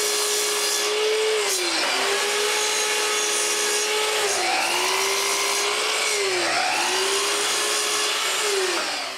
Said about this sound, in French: Je bouge donc ma scie à onglet à 9 degrés et je coupe les bouts de chaque patte.